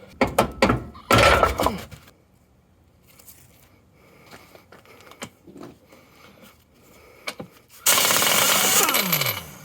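Banging on the torsion bar spring and lower A-arm of a GMC motorhome during front end removal, bursts of loud metal hammering and clanks separated by quieter rattles and knocks, ending in a sustained harsh grinding blast.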